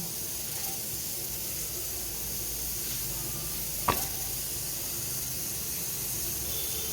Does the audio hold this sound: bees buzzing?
no